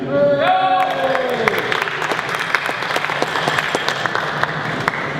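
Conference audience at an IP Expo event gives sustained applause, a loud, even roll of many hands clapping that carries on alone after a brief tone at the start.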